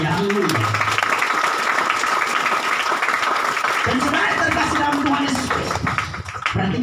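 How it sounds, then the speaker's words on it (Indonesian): Applause from a church congregation during a sermon, a dense steady patter of many hands filling the room, with a voice speaking over it at times. "Yang sudah dengan tepuk tangan yang meriah."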